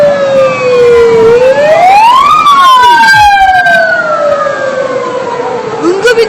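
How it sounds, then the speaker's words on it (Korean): Ambulance siren passing close by on a street near Gwanghwamun Square in Seoul, loud and sweeping up and down in pitch, then dropping as it goes past, with a brief burst of other noise at the end. "구급차가 지나간 거예요."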